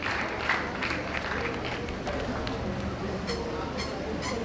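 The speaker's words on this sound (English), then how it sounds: "Please, a round of applause for her. Please put your hands together." Sustained applause from a university conference audience in a hall, steady and moderately loud throughout, with faint crowd murmur mixed in.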